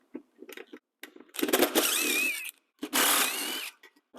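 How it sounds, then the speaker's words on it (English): Cordless drill or driver backing self-tapping screws out of a metal pocket door kit track, two loud whirring bursts near the mic with short clicks and pauses between, no talk. "Now after I got this screwed in, I'm actually going to unscrew it."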